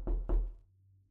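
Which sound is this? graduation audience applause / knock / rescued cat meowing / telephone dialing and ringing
knock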